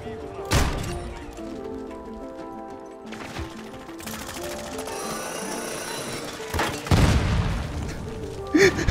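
Loud booming blasts and bursts of gunfire in Call of Duty: Modern Warfare II over a busy, dense background, with a person talking excitedly throughout.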